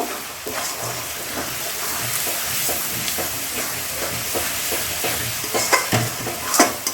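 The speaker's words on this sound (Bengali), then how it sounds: "এখন এর মধ্যে এই যে আদা রসুনের পেস্টটা পুরো দিয়ে দেবো আদা রসুনের পেস্টটা দিয়ে আরেকটু কষিয়ে নেব" Ginger-garlic paste sizzles and fries in a hot pan while a spoon stirs it, with steady crackling hiss and repeated scraping strokes, close and fairly loud throughout without talk.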